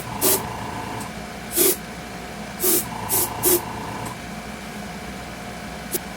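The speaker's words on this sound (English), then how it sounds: "We loaded up our airbrush. And the first thing I'm going to do is to shoot the pumpkin flesh" Airbrush spraying yellow paint onto a pumpkin, five short bursts of hissing air in an uneven rhythm, close and clear over a steady background hum.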